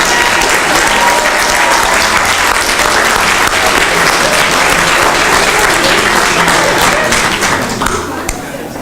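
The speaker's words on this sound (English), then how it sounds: "Let's give a round of applause." Sustained audience applause at a community media gala honoring the board and advisory board, loud and dense for about eight seconds before thinning slightly at the end, with faint voices mixed in.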